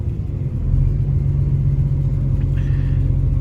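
A Class 185 Trans-Pennine Express diesel train rumbles along steadily, a deep continuous engine drone heard from inside, swelling slightly after the first half second.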